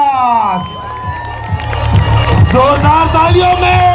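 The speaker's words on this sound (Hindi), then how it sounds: "जोरदार तालियों में इस्तकबाल कीजिए नूर अलमास" A comedy show crowd cheers and whoops loudly as a comedian is welcomed on stage, a dense roar of voices and shouts with scattered applause building across the moment.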